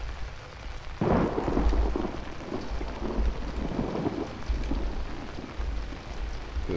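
Thunder rumbles and steady rain pours in the horror video game Outlast, a loud crack landing around the one-second mark, then heavy rolling rumbles and constant rainfall with no voices.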